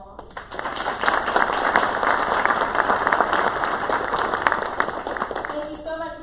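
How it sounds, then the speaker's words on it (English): An audience at a school board session claps loudly and continuously, a dense wash of applause that fades near the end, with a faint high tone underneath. "Please join me one more time in a round of applause."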